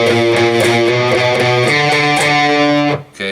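An electric guitar, slightly distorted, plays a slow solo phrase from a rock song, with sustained notes and slides, loud and alone until a brief drop at the end.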